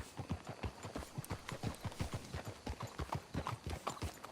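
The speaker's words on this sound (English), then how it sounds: "Let's hitch the horses up ahead." Horse hooves clip-clop in steady rhythmic beats in Red Dead Redemption 2, a quick regular series of distinct thuds at moderate distance with no talk.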